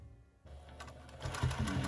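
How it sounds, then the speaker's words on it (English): Sewing machine stitching a butterfly quilt block, starting after a short silence and running as a close rapid mechanical whir with steady needle clatter. "Sew up to this point, right there, back stitch, cut it off."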